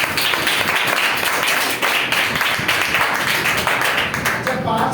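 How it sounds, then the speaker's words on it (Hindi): An audience claps loudly and steadily in a dense, sustained round of applause that holds at full strength for the whole stretch, with a brief dip partway through. "एक बार जोरदार तालियां।"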